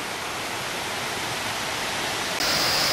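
A two-tiered waterfall about 40 meters high near Teresópolis, Brazil, roars in a steady, dense rush of falling water that stays loud and unbroken throughout, with no voices.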